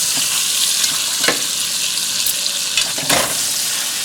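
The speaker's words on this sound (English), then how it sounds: "And we're going to sear this all over." Pot roast searing in a hot pan, a loud, close, continuous sizzle and hiss with a few brief louder bursts as the meat is shifted, with no talking.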